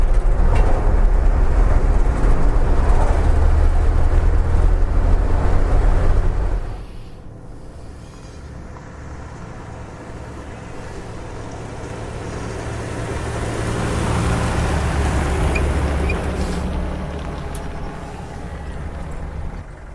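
A 1953 Dodge pickup truck shifted into third gear, its engine rumbling loudly and steadily, dipping briefly before building again as the truck pulls away and cruises.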